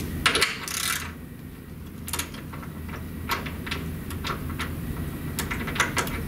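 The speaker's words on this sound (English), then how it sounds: "with a 1-inch socket and ratchet, go ahead and snug that up too" A socket and ratchet snug up a stainless steel cap on a bypass manifold, giving a string of sharp metallic clicks and taps, irregularly spaced, close and fairly crisp over a quiet background hum.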